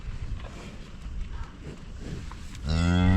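A cow near a calf during calf tagging lets out a loud, close moo near the end, after a stretch of quiet farmyard shuffling and background noise.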